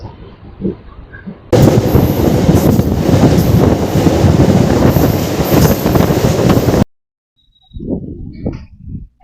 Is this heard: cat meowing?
no